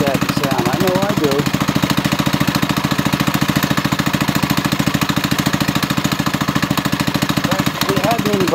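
A Doodle Bug 97cc mini bike's small engine warming up, a rapid, even, loud putter running continuously close by, with a voice talking over it at the start and end.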